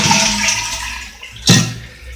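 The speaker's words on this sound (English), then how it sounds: "we're going to flush all this water out of this bowl" A household toilet with a chain-type flush, its water supply shut off, is flushed to empty the bowl, giving a loud, close rushing surge that quickly drains away. The flush stands alone with no talking.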